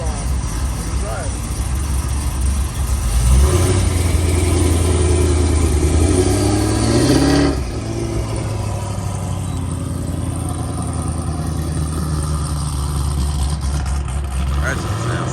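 A Chevy SS with an LSA supercharged V8 running nearby, a deep steady rumble that swells into a rev, then drops back to a rough idle, with people talking over it.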